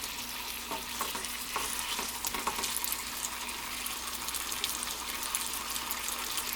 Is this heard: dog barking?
no